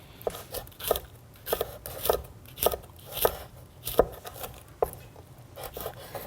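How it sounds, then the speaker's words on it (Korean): A knife slices onion into thin julienne strips on a board, producing quick, fairly regular close chops of moderate loudness with faint background noise and no talk. "편안하게 그냥 채 썰어 주시면 돼요"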